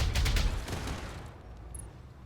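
A close, loud burst of rapid video game gunfire rattles for about a second, then trails off into a fading echo with no talk over it.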